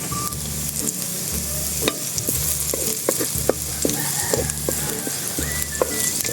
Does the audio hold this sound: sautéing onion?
yes